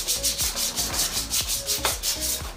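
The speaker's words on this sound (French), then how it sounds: "d'abord on commence par poncer les 2 pièces à coller, histoire de faire une surface d'accroche pour la colle" Two PVC pieces are sanded before gluing during pond construction, a rhythmic close rubbing with quick back-and-forth strokes about five per second, loud and alone.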